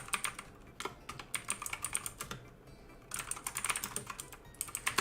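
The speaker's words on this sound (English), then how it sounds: "Apologies for the loud typing, folks." Loud, fast typing on a computer keyboard, with clustered clacking keystrokes in bursts and a brief pause near the middle, close to the microphone with no talking.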